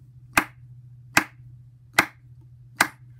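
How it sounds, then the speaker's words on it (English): Four evenly spaced, crisp hand claps from children in a body percussion lesson, each sharp and isolated against a quiet room with a low steady hum beneath. "you will need to clap four times"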